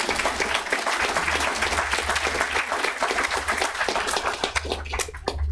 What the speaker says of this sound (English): I would appreciate if you give her a round of applause